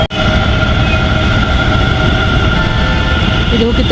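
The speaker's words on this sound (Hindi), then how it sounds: "तो मेरी मेट्रो भी आ गई है।" A metro train arriving at a station rolls loudly and steadily close by, a dense mechanical rumble with whining tones, continuous throughout.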